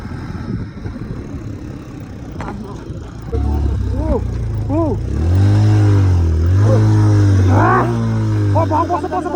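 A motorcycle on a steep Nepali mountain road, its engine dropping to a labored, heavy low drone as it struggles uphill, with people talking loudly over it.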